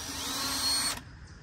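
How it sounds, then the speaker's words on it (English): A power drill bores a hole through the eye of a carved Jack-O-Lantern pumpkin, whining steadily for about a second before cutting off abruptly. "I'm gonna go ahead and drill a hole in the middle of this eye"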